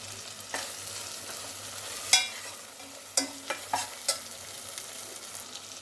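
Biryani masala with mint and coriander frying in a pan, a steady low sizzle with several sharp clinks and scrapes of a spoon stirring against the pan.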